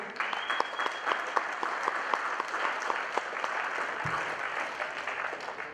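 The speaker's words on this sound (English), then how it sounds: "Round of applause." Sustained audience applause fills a sportsman's dinner hall, dense steady clapping from a large crowd heard near and loud throughout, with no talk over it.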